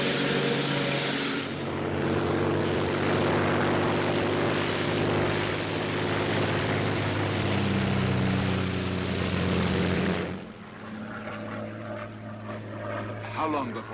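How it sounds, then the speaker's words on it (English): A Royal Air Force propeller plane drones steadily in flight, a loud continuous engine roar filling the first ten seconds before dropping to a softer, more distant hum. "a Royal Air Force plane is waiting for us at a secret landing place."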